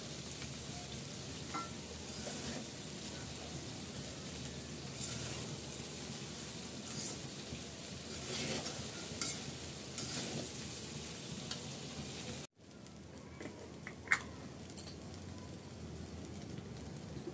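Fried rice with fried egg sizzles and scrapes in a hot pan, a steady crackling hiss that stays loud throughout, then briefly cuts out and resumes somewhat quieter with a few sharp clinks.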